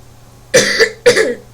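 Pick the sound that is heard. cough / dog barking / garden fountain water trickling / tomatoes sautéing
cough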